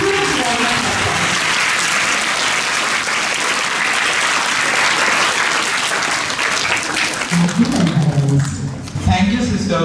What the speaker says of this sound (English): So let's give all of us a huge round of applause.